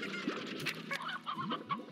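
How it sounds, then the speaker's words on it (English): Chickens cluck in the game Slime Rancher, several short rising clucks scattered across a steady background bed, close and moderately loud with no talking. "There are chickens behind you."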